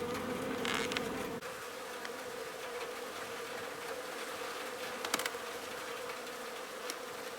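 Honeybees buzzing at a hive entrance, a steady dense droning hum with individual bees zipping closer now and then, some bouncing off the hive, and a brief low thump early on; no voices.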